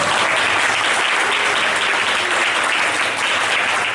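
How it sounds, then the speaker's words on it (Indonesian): A classroom of students applauds during a vocational lesson on car air-conditioning maintenance: loud, dense, steady clapping that fills the whole four seconds without any voices over it. "Tepuk tangan dulu."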